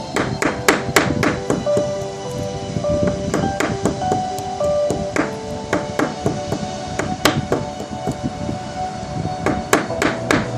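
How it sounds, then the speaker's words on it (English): A hammer knocks down the feet of an improvised fountain pen nib in a long run of sharp, close taps at an uneven rhythm, some strikes leaving a brief metallic ring. "I'll just try to align and make sure it's straight by hammering down the feet"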